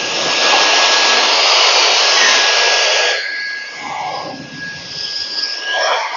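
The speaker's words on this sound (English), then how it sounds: "And then I'm just going to blow out all the filler dust." A Mega Flow 200 blower blows filler dust out in a home, with a loud continuous whooshing roar and a thin steady whine. Partway through the blast eases to a softer, uneven rush that wavers as the airflow moves around, with no talking.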